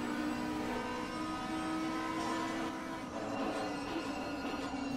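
Onboard a Blancpain GT3 race car lapping Misano, the engine drones steadily with a sustained tonal whine, heard at a moderate, even level throughout.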